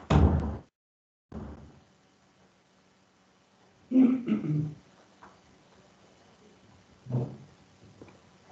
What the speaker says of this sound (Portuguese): deixa eu fechar a porta aqui, que está vindo um ruído lá de fora